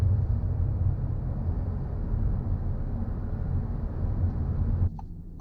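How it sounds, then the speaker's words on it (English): Steady low road and engine rumble inside a 2018 Audi A4 2.0T S Line cruising at 40 mph in comfort mode, a muted constant hum that drops slightly near the end. "So this is the car in comfort mode. This is how quiet it's going to be. We're at 40 miles an hour."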